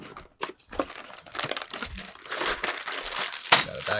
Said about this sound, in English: there's just 2 tabs to cut and then we'll fold it open